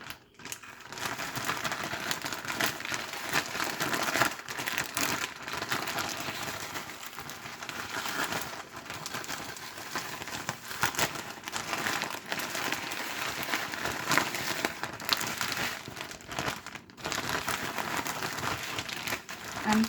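Food rattling and crinkling inside a sealed bag as it is shaken to coat it evenly, a continuous rough rustling shuffle at close range lasting throughout with no voices.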